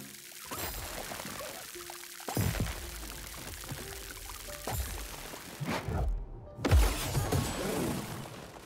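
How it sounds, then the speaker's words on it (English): In the video game Grow: Song of the Evertree, plants are watered with a series of short splashing pours, about five separate bursts spread evenly across the stretch, each rising and trailing off. "so I'm just gonna water these."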